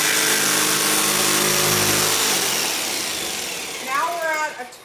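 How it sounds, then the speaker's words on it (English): A jigsaw cuts through a door hanger board with a loud, steady buzzing rasp that gradually eases, then a voice speaks briefly at the end. "now we're gonna take our jigsaw and we're gonna start at that point and we're just gonna cut"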